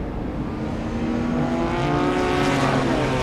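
The number 70 Ford Capri race car drives by during historic touring car qualifying, its engine a loud, rising roar that builds steadily over a few seconds with no voices.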